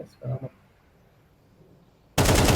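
Shooter video game gunfire erupts as a loud, sustained close-range burst near the end, after a brief spoken exchange and a quiet stretch.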